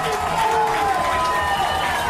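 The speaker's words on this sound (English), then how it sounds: "And here comes this Caven Point crowd." The Caven Point home crowd at a high school football game between Seton Hall Prep and St. Peter's Prep roars in a continuous, broad wash of cheering, with a commentator's voice carrying faintly over the noise.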